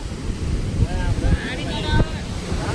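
Sea waves wash up onto a beach on a windy coast, a steady surf rush heavily buffeted by wind across the microphone, with faint distant voices in the background.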